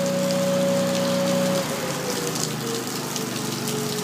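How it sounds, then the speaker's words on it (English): Heavy rain pours steadily in a dense, hissing wash in Philadelphia, with a low engine-like hum fading out partway through. "look at the weight of the rain coming down, just pummeling it"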